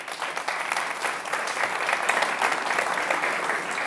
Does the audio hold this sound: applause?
yes